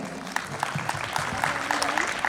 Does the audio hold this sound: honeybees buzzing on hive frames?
no